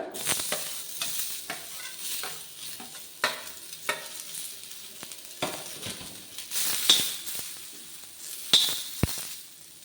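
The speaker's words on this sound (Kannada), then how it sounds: "ಇವಾಗ ಈರುಳ್ಳಿ ಹುರ್ಕೊಳ್ಳೋಣ." Onions fry in oil in a pan while being stirred, with a steady sizzle and repeated scraping strokes and faint clinks throughout, close and moderately loud.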